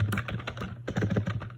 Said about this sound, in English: for me, I'm going to type in pastel